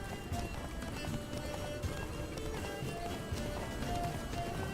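Hoofbeats of Roach, Geralt's horse in The Witcher 3: Blood and Wine, galloping steadily and continuously amid dense game ambience and music, with no voices over it.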